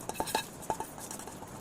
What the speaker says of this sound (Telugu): ఈ సీడ్స్ని ఒక గిన్నెలో పెట్టేసుకుంటాను